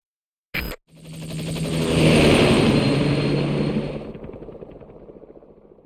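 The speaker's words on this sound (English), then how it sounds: "Just get in the chopper." Helicopter in the video game Metal Gear Solid V: The Phantom Pain. A sharp burst is followed by a broad engine whine and pulsing rotor rumble that swells loudly, holds, then slowly fades.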